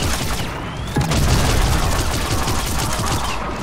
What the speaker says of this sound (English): I don't know who's shooting at me